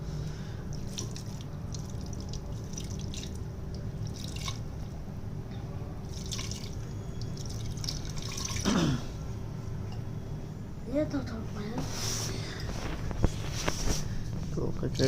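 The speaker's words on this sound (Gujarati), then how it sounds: "પાણી નાખી દેવાનું અંદર" Water splashes and trickles into a cooking pot of stuffed eggplant curry, a steady, moderately quiet pour with some drips, with faint voices in the background.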